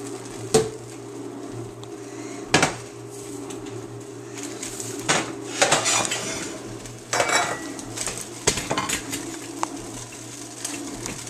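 Cooked broccoli is tipped from a pot into a pan or bowl, giving scattered metallic clanks and scrapes of cookware with a few sharp knocks, fairly close, over a quiet background hum.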